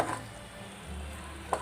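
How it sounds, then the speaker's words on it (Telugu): Sugar syrup for arisalu sweets boils in a pan, a soft continuous bubbling and sizzle heard up close, with a faint clink of utensils near the start and end. "పాకం బాగా మరుగుతుంది"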